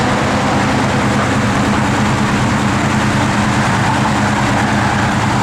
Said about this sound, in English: Got good sounding small block in it.